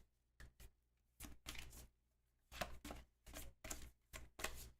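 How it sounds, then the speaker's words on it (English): A deck of event cards for a tabletop game is shuffled in a series of quick, crisp riffling bursts separated by short pauses, close but quiet. "I'm shuffling up the event cards."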